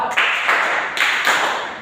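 Four crisp, evenly spaced hand claps ring out in a clapping game during a small-group classroom session. Each clap is sharp and close, about a third of a second apart, with no talk in between.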